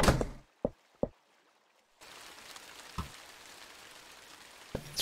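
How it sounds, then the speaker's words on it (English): Steady rain falling in the video game Minetest, a soft continuous hiss that begins partway through, with a few sharp knock-like taps before and during it. "It's raining."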